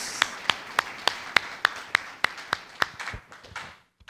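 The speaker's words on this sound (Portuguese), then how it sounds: "Palmas ao Rei dos reis, Senhor dos senhores" A church congregation claps in praise, about a dozen sharp, evenly spaced claps in a steady rhythm that loosen into a few softer, irregular ones before stopping.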